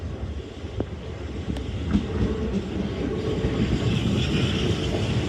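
A Class 375 electric train, a double pairing of units including 375 818 on a Ramsgate service, rolls through London Waterloo East in the morning peak: a steady, loud rumble of wheels and motors with faint rail clicks and wind noise, no voices.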